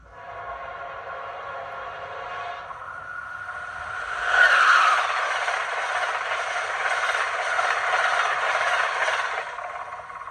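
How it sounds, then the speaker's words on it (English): A Bachmann Via Charger model train's whoosh effect sounds as a steady rushing hiss. It swells sharply near the middle, then holds a broad, fairly loud wash before fading slightly at the end, with no talk. "you've got F4, which is your whoosh. They call it a whoosh, but it's more like a Doppler"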